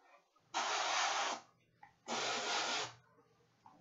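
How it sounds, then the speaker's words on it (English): Spray paint hisses onto a Redemptor Dreadnought miniature in two steady bursts, each close, broadband and about a second long, separated by a short pause. "we're just spraying straight down like that"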